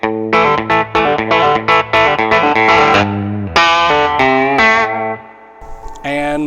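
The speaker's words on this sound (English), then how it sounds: "So the MXR Sugar Drive is what I'm using for my overdrive." An electric guitar played through an MXR Sugar Drive overdrive pedal, loud and close: a run of choppy, crunchy chords and short riffs, then a held chord that rings out and decays, alone with no talk.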